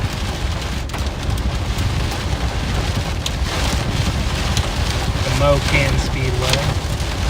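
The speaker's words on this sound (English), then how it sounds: "Got some small hail falling right now too." Small pea-sized hail falls with steady rain during a supercell storm in Joplin, Missouri, a dense continuous patter with occasional sharper hits, while someone talks over it.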